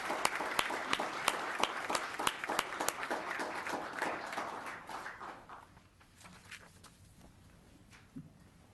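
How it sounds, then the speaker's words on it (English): An audience at a town council meeting claps in steady, moderately loud applause that gradually thins. A few scattered claps linger at the end. "Another round of applause for our just average teenager."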